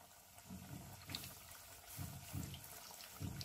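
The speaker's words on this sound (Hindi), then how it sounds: "तेल जो है खूब अच्छे से गर्म हो गया। अब हम इसमें बॉल डाल देंगे" A dough ball deep fries in hot oil, a faint bubbling gurgle rising and falling in soft pulses, quiet and close.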